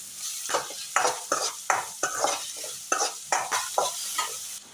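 Onions fry in oil in a kadai, sizzling steadily while a spoon stirs in a regular rhythm of scraping strokes, close and moderately loud, with no talk.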